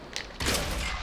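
A Matilda tank's gun fires once in World of Tanks, a sharp, loud blast that cuts in abruptly after a brief lighter pop and rings out with a broad rumbling tail.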